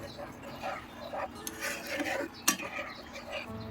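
A spoon stirs a sour Bengali mango dish in a pot after sugar syrup has been poured in, with soft scraping and clinks against the metal and one sharper knock, faint and close, and a few quiet background sounds.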